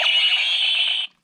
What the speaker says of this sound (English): the sword will now have 2 additional sounds. The first one is this.